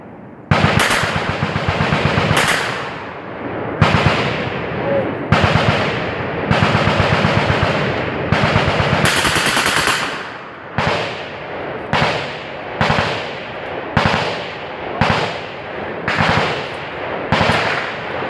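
Machine guns fire at the Knob Creek shoot in long, loud, rapid bursts, separated by short gaps, then settle into a series of shorter, evenly spaced bursts that echo across the range.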